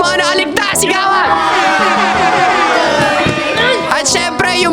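A crowd of people shouting and cheering together at a poolside TikTok dance challenge, loud, sustained overlapping voices yelling throughout.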